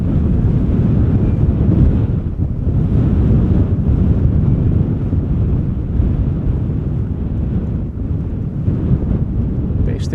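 Strong crosswind at Schiphol Airport roaring across the microphone in loud, continuous low buffeting gusts.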